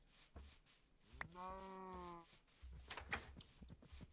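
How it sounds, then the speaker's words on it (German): A Minecraft cow gives one clear, drawn-out moo of about a second, framed by soft rustling and light tapping movement sounds. "Oh, eine Kuh!"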